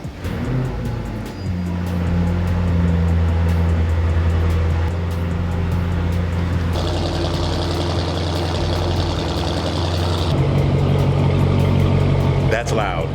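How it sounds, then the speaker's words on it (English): An Audi S7 with a loud aftermarket exhaust cold-starts outside and is heard from inside a house: a muffled, steady low engine drone with shifting tones as the idle settles. "I'm gonna start my car right now and see if you can actually hear it."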